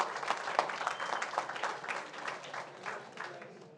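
Scattered two-clap applause from a group at a school board meeting, moderately loud and fairly continuous, gradually thinning toward the end.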